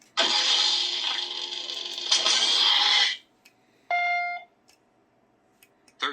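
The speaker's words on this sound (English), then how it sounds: "you push and hold them together until it beeps" NSabers Luke EP6 lightsaber adjusting blade volume: a loud buzzing hum for about three seconds ends, then a short bright tonal beep follows, with faint clicks after.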